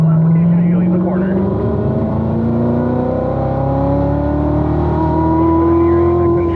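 A race car on a track at a performance driving school accelerates out of a corner, its engine pitch rising steadily and loudly from inside the car as the revs climb; a voice speaks over it.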